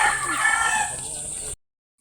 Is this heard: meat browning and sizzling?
no